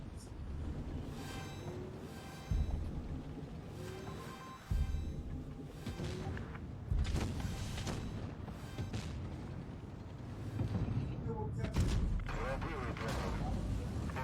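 Tank cannon fire in the World of Tanks video game, with several heavy booms spaced through the clip over rumbling engine and mechanical noise, while a player talks over the action.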